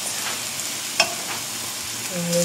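Chopped escalopes crackle and sizzle in a frying pan, a continuous close hiss with a sharp pop about midway and faint utensil scrapes toward the end.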